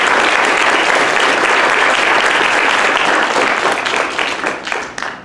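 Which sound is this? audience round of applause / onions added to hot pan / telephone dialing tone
audience round of applause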